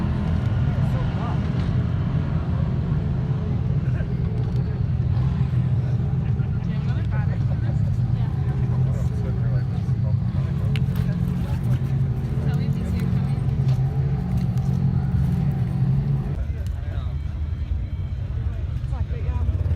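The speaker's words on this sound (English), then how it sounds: "we'll watch a couple more cars come through" UTV race cars at King of the Hammers 2019 in the desert give a steady, loud low engine drone that holds for most of the stretch before easing off, with voices faintly mixed in.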